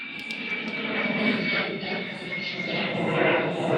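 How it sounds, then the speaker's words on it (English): A fixed-wing airplane passes overhead along a flight path above a cycling route in Sydney, a steady broad engine roar holding at moderate loudness throughout, heard from a bike among outdoor ambience. "You can hear the plane overhead."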